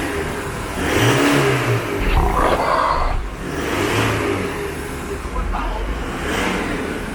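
Stock Isuzu D-Max 1.8 pickup with automatic gearbox revving: loud, close engine surging up through about three strong bursts of revs and dropping back between them, with brief voices underneath.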